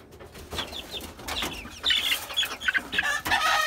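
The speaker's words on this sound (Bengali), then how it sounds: "আর এই তো আমার হচ্ছিল যে শকুন মুরগি, অনেকে বলে গলাছিলা মুরগি।" A naked-neck chicken kept with native hens on a rooftop clucks several times up close in a short burst, with a brief flutter of wings among the calls.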